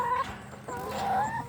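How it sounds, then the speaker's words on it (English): Chickens in a homestead coop with a nesting box, a hen giving a few soft, drawn-out clucks at close range over quiet background noise. "show you guys the chickens"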